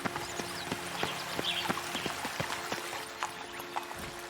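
Steady clip-clop of horse hooves trotting at an even pace in The Witcher 3: Blood and Wine, moderately close, over a soft ambient background with faint watery texture.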